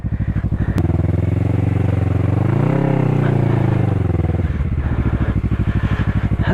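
A motorcycle on Dunlop Mutant tires rides over loose gravel, its engine loud and close. A pulsing idle-like chug swells into a smooth rev that rises and falls, then settles back into the steady thump.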